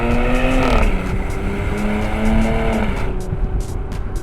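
A 2021 Porsche Cayenne S Coupe accelerates hard out of a corner on the road near Vancouver, its engine note rising steadily and loud from the cabin, dipping briefly before climbing again, with faint tire noise.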